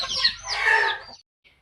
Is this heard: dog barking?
no